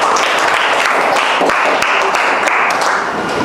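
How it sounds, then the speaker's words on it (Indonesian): Students in a tenth-grade classroom applaud on cue, a close, busy spatter of individual claps with sharp distinct hits, loud and sustained with no talk over it. "Oke, tepuk tangan dulu."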